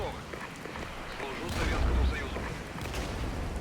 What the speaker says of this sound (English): now we've got mortars firing at us again